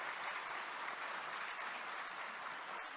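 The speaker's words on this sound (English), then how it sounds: "let's have a round of applause for Paresh." Sustained, dense audience applause at a corporate conclave fills the space evenly and loudly from start to finish, with no voices on top.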